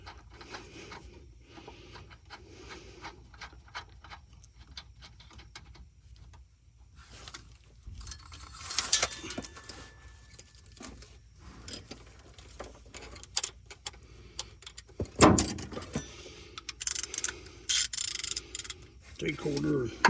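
Hand-tightening a nut with a 3/4-inch (19 mm) socket while fitting air shocks on a Chevrolet El Camino, with scattered metallic clicks and scraping taps, including a few louder clanks, in a quiet garage.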